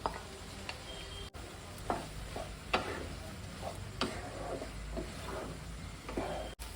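Boiled goat fat is added to a pan and stirred while cooking for ghugni, a soft sizzle under scattered spoon clicks and scraping taps against the pot.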